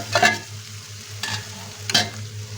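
Masala with crushed dried fenugreek is stirred as it fries in a pan for baingan bharta. Three short scraping, sizzling stirs stand out over a steady low hum.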